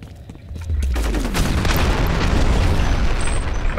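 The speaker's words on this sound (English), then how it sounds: "I have a shotgun! I shot you in the face." Shotgun blast in a video game, a loud booming report that rolls into sustained rumbling and crackle, close and heavy.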